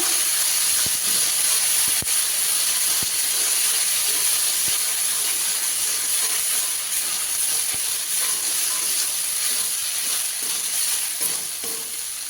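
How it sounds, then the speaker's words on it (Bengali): Spice paste for a mustard curry frying in a pan, giving a loud, continuous hiss and sizzle that holds steady throughout, with faint scattered clicks and no voices. "মশলাটাকে ভালো করে কষিয়ে নেব।"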